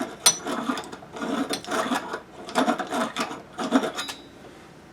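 A water heater element rubbed by hand for friction, giving rhythmic bursts of raspy scraping, about five strokes, close and fairly loud with short pauses between.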